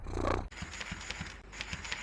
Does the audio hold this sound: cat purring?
yes